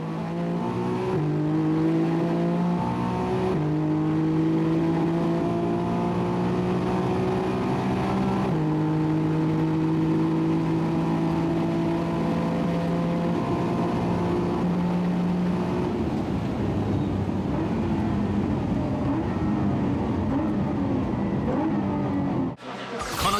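A tuned Nissan 35GT-R runs flat out at about 325 km/h at Fuji, heard from onboard as a loud, steady engine drone with harmonics climbing through the gears and a brief drop near the end, with no talk.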